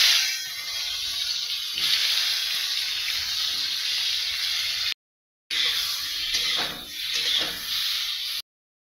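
Pieces of katla fish fry in hot oil, giving a loud, steady sizzling hiss close by that runs continuously apart from one brief gap.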